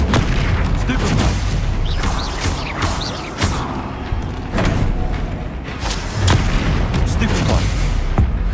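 Spell casts burst out one after another in Hogwarts Legacy combat, each a loud whooshing boom over a dense, rumbling battle mix, with several strikes in quick succession and a voice heard in the fray.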